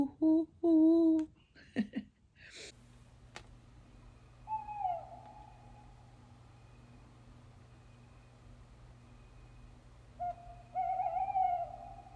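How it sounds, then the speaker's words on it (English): Tawny owl hooting in a quiet night setting, a few soft wavering hoots spaced apart at middle distance, with some handling noise at the start. "The tawny owl is particularly well known for its song, which sounds like choo, or sometimes hoo, hoo, hoo, hoo, hoo."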